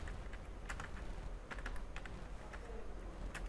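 Keys tapped on a computer keyboard while entering a Hindi word, a steady run of close, light clicks with occasional sharper strokes over a low background hum, no voices.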